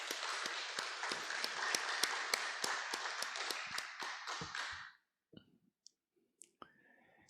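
A church congregation applauds in crisp, evenly paced claps for about five seconds before the clapping stops abruptly, leaving a few faint knocks and near silence.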